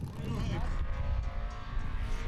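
An old, legendary Icelandic formula offroad race car revs and drives close by, its engine roaring with a gritty, rising and falling tone, and commentary is faintly mixed in underneath.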